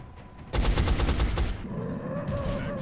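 Soldiers in the video game X-Com Enemy Unknown open fire in a loud, rapid burst of automatic shots lasting about a second, followed by a ringing, fading tail.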